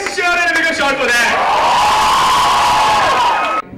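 A college audience cheers and whoops loudly at a film promotion event at Sophia College. The shouting swells into one sustained roar of many voices for over three seconds, then cuts off abruptly.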